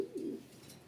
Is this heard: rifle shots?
no